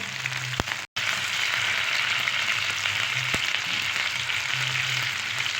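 Stingray pieces fry Tirunelveli style in a pan of hot oil, a loud, steady sizzle hissing continuously throughout, with a couple of brief clicks and one sudden short dropout near the start.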